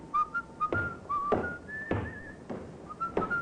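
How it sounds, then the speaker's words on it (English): A man whistles a melodic tune in short rising and falling phrases, fairly close and clear, accompanied by intermittent footsteps or knocks, with no speech. "that fella there, whistling"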